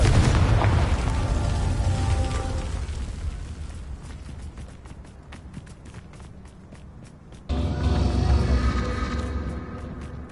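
Confringo fire-blast spell going off in Hogwarts Legacy, a loud booming explosion with crackling debris and rumble, fading into running footsteps before a second heavy blast bursts in near the end.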